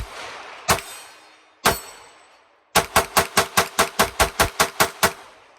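Fifteen rounds emptied from an S15 magazine: two separate loud gunshots, then a fast string of about a dozen sharp, evenly spaced shots fired close and alone.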